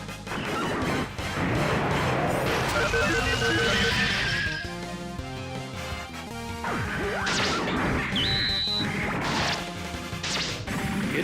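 Getter Drill attack effects from the Super Robot Wars IMPACT video game, with loud, layered crashes, whacks and whooshes, metallic screeching and dense impact bursts that follow one another rapidly across the clip.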